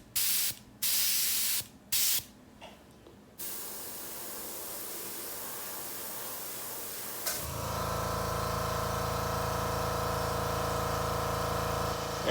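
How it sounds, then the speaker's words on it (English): Compressor-fed spray gun spraying yellow paint: short hissing bursts at first, then a steady loud spray hiss with the compressor running underneath. "Test spray and see what's coming out of here."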